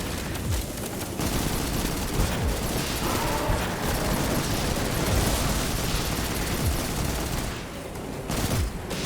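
Sustained rapid gunfire in the Destiny 2 video game during a final mission fight, with dense overlapping shots and blasts rattling almost continuously and fairly loud, easing briefly near the end.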